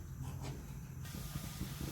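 Milk with sugar coming to a boil in a pot on a gas stove, ready for rice flour for modak dough: a steady close hiss with faint bubbling underneath, alone.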